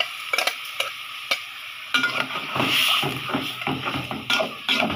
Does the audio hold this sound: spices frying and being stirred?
yes